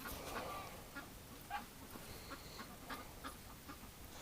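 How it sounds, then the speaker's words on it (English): Ducks quack quietly outdoors in winter, a scattering of short calls drifting over a soft, steady background with no one talking. "The ducks are telling me it's time to get inside the building."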